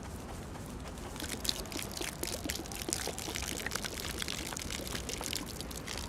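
A video game plays a soft, steady pouring and trickling liquid effect that runs continuously for several seconds. It stays faint and slightly splashy, with a few brighter drips, and no one speaks over it.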